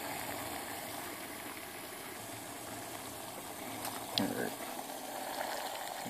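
Water rumbling at a boil in a pot on a camping stove, a steady low bubbling roar with the hiss of the burner underneath, close and continuous, with a brief clatter near the end.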